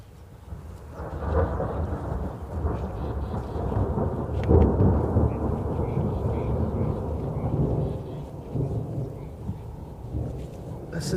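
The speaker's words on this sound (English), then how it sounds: "Listen to how awesome this thunder is." Thunder rolls during an evening safari game drive, a long, loud, deep rumble that swells and lingers for several seconds over faint background sound.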